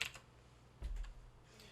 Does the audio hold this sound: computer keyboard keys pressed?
yes